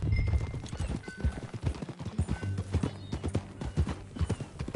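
Horse hooves clip-clop in a quick, continuous rhythm in a video game, close and fairly loud, with a brief whinny mixed in.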